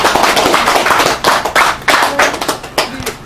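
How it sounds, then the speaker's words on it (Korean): Close, loud clapping from an audience at an anniversary gathering with laughter therapy, starting as a ragged patter and breaking into distinct sharp claps toward the end. "박수 한번"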